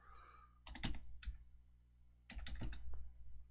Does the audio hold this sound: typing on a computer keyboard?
yes